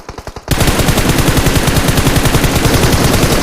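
Automatic gunfire in the video game PUBG Mobile: a few separate shots, then a rapid unbroken burst of fast machine-gun fire, very loud and close, with no voices.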